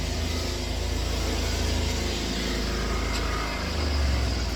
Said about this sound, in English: oh wow, it's a loud tuk-tuk.